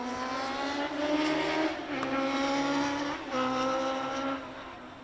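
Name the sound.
motorbikes passing on a road by a cricket ground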